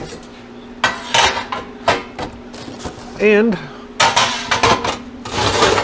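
Metal freeze dryer pans holding crushed pineapple and lima beans are lifted and shuffled in a kitchen, several sharp clanks and scrapes at irregular intervals, close and loud, with a brief spoken word.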